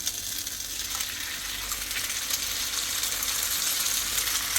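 Eggs hit a hot frying pan where potatoes are cooking, and a loud, steady hissing sizzle fills the whole moment close up.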